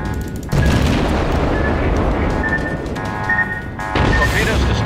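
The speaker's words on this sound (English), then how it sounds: "Ooh, that was a torpedo hit." A torpedo hit explodes in a World of Warships naval battle, a loud, sustained rumbling boom among dense ongoing gunfire and battle noise, with a second surge of blast noise near the end.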